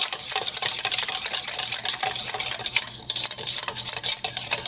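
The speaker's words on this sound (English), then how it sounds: "So you just want to blend this up and get that cornstarch nice with no lumps in it" A cornstarch and soy sauce mixture is stirred in a bowl to work out the lumps for pepper steak, giving steady close scraping and clinking of a utensil with faint sizzling behind it, no voices.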